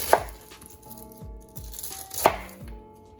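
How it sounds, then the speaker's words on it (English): A knife chops through cabbage on a cutting board: a few sharp, close thuds spaced irregularly, with faint board knocks in between and no voices. "we'll simply chop"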